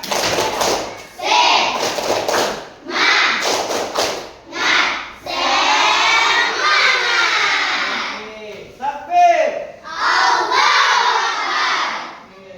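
A school class performs the tepuk semangat spirit clapping chant, bursts of rhythmic group claps alternating with children shouting the chant in loud, close sections separated by brief pauses.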